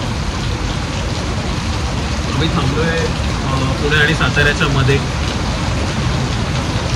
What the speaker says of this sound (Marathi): पाऊस एकदम खतरनाक आहे.